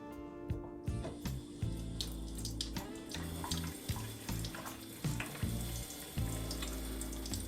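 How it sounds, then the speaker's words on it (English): Soap and water worked into a prosthetic liner at a sink, a continuous close wash of running water with wet rubbing and squelching, no talk. "Scrub it in, lather it up really good, and you can use a little water on top of it as well."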